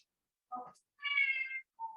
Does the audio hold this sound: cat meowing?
yes